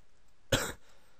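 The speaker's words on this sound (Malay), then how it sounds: "Maaf, batuk." A single sharp cough, close and fairly loud, over a quiet background with no talking.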